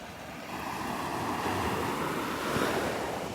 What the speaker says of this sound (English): A few little waves.